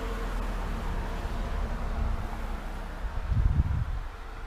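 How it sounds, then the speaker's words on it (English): Steady wind gusts across a hillside and buffets the microphone, a continuous rushing roar with a stronger low rumbling gust near the end, no voices. "I have a wind that comes this way, and most of the wind comes straight up this way."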